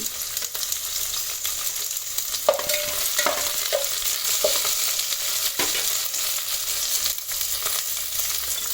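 Whole spices, cinnamon stick, star anise, green and black cardamom, frying in hot oil in a pan, a steady soft sizzle with occasional stirring clinks and scrapes, no voices.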